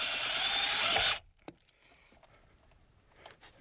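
A power driver sends a self-tapping screw into a Jeep Liberty CRD's body for a ground wire: about a second of loud, close whirring that stops abruptly, followed by a few faint clicks in a quiet space.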